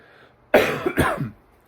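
A man coughs twice in quick succession, two harsh, close, loud bursts breaking a quiet room, followed by a brief throaty trail.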